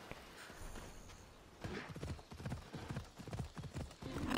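Horse hooves clip-clop in the Assassin's Creed Odyssey video game, a steady run of close hoof beats that grows louder toward the end, with no one speaking.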